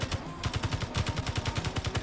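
Rapid automatic gunfire hammers a light armor block in Space Engineers, a steady stream of close, evenly spaced shots with no pauses and no talk.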